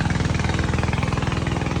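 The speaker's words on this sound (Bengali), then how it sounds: "এই পাশে দেখুন ট্রলারগুলো চলে যাচ্ছে খুব দ্রুতই" A wooden fishing trawler on a river runs its engine close by as a loud, fast, even chugging throb with a rapid regular beat and no voices.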